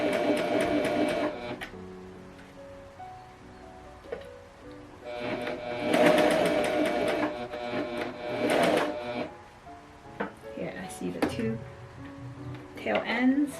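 A Pfaff Coverlock 4.0 sewing machine stitches fabric nearby in bursts of fast mechanical whirring, stopping and starting, with a speaking voice heard between runs.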